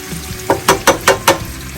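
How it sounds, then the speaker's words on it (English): Sauerkraut fries in bacon grease and Kerrygold butter in a pan. About five short, loud sizzling bursts come in quick succession, close by, with no voices. "We're preparing some sauerkraut, and it'll all just kind of cook together as the day goes."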